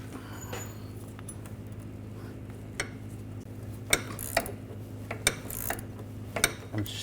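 A wrench works loose the rear sway bar link bolt on a 2004-2009 Audi A4 Quattro, producing close, faint metallic clicks and ticks over a steady low hum, growing more frequent toward the end.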